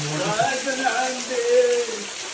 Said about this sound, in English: From the mouth it is coming.